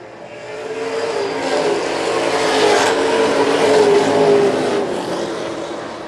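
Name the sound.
pro stock race cars racing on track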